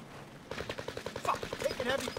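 Heavy automatic gunfire in a Warzone match, a fast, even string of sharp shots starting abruptly and continuing at a steady rhythm, moderately loud, with a voice briefly heard partway through.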